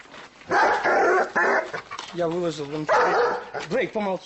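Dogs at a remote rural homestead in the Arkaim area of the Chelyabinsk region bark and yelp in short, close bursts, with some whining notes mixed in, while a person talks over them.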